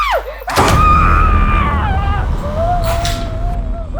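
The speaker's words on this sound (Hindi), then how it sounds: "ये भी ना बहुत चिल्लाने लगी है" Woman screams loudly in a closed room, a sharp wavering cry that starts after a thud and trails into strained wails, close and echoing.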